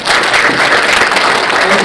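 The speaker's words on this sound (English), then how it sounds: "let's give me a round of applause" A seminar audience gives a short round of applause, loud and close, dense clapping holding steady for a couple of seconds.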